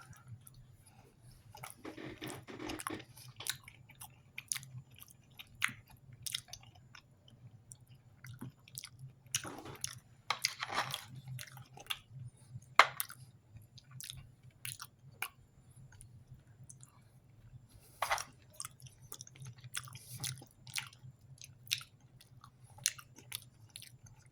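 Someone eats MRE chili mac with beans, beef and macaroni from a 2022 MCW ration, making close, quiet, wet chewing and soft crunching bites in irregular bursts with short pauses between them, no talking.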